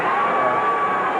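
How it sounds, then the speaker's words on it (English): Wrestling crowd at a live Memphis wrestling match booing, a dense, loud, sustained roar of many voices with no breaks. "Crowd booing it."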